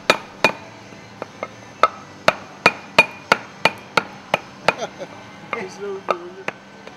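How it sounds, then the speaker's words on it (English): Sharp, evenly spaced hammer blows drive an exhaust valve's air piston into its air cylinder through a wooden block, about a dozen close, ringing knocks with a few lighter taps and faint metallic handling near the end. "Use a hammer and a piece of wood to hammer the piston into place in the air cylinder."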